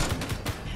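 Minigun fire in the game Space Engineers, a rapid dense burst with several stronger thumps pulsing through a constant rattling roar, loud and close throughout the short clip.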